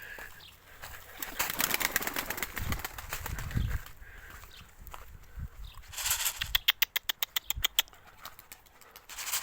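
Wings flap in a quick burst as a pigeon takes off, with rustling handling noise and faint background activity around it.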